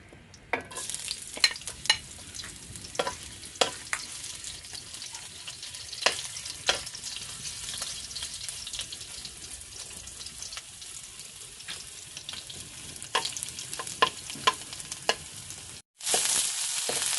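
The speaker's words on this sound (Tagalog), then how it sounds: "magsasangkot na kami ng sibuyas at bawang at luya" Onion, garlic and ginger sautéing in a pan, a strong continuous sizzle broken by frequent sharp scrapes and clacks of a stirring utensil, close and steady, with a brief gap near the end.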